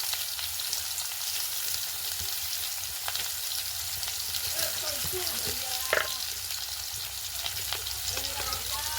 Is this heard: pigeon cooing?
no